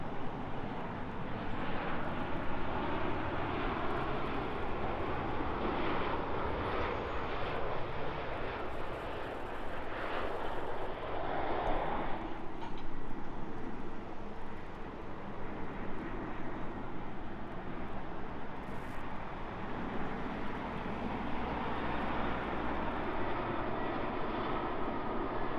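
A Ryanair Boeing 737 arriving at London Heathrow from La Palma gives a steady, loud jet roar that swells slightly mid-pass and holds over the whole stretch, with no voices.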